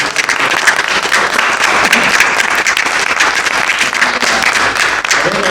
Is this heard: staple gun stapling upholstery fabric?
no